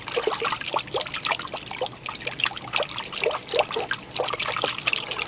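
Foley water effect imitating rain falling on a pond, a dense, steady patter of small drips and trickles splashing continuously and close, with no talking.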